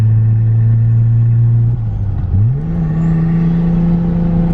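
A lifted Chevrolet Silverado truck on 35-inch tires runs with a loud, steady engine drone and turbo whine, dipping briefly then rising again in pitch, close and continuous with no talking.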